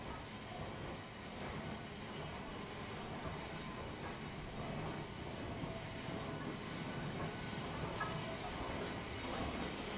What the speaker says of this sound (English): Have you got any train noises?